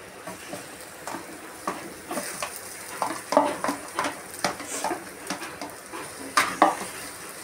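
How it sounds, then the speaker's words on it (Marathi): Mashed potato pressed and mixed in a pan with a spoon, giving a series of soft rhythmic scrapes and clacks against the metal, close and moderately quiet. "नीट मॅश करून घ्यायचं आहे म्हणजे मिक्स करून घ्यायचं"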